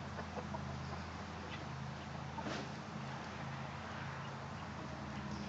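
Australorp chickens cluck softly on a farm in hot weather, a steady low murmur of hen calls with faint background noise throughout, no speech.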